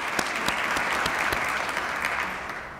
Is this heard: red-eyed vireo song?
no